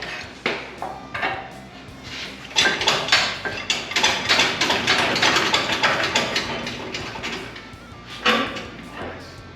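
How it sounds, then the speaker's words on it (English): Metallic clinks, ratcheting and scraping while a nut is started on a bolt during restoration of a 1968 Chevrolet C-10 truck with an LS engine swap, arriving in irregular close bursts over several seconds. "let me get this nut started"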